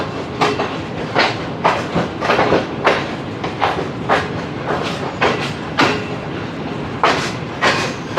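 A train at a platform of Faisalabad railway station in Pakistan, its wheels giving a steady, rhythmic clickety-clack of repeated sharp clatters over a continuous rolling rumble, fairly close and loud, with no voices.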